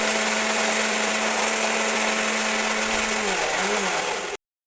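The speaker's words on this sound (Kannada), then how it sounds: "ಅರಸಿನವನ್ನು ಹಾಕ್ಕೊಂಡು ಹುಡಿ ಮಾಡಿಕೊಳ್ಳಿ." A mixer grinder with a small jar grinds cumin, black pepper, coriander, fenugreek and turmeric into powder, a loud steady whirring roar that runs continuously and then cuts off abruptly near the end.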